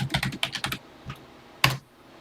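Keys clack on a TI-99/4A computer keyboard as a BASIC program line is typed, a quick close burst of about eight keystrokes, then a lone tap and one firmer final press.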